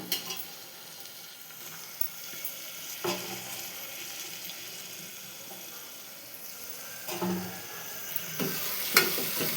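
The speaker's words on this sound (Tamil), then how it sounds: "சேர்த்து நல்லா வதக்கி விடுங்க" Tomatoes sizzle steadily in a hot pan, with occasional scraping stirs of a utensil against the pan and no talking.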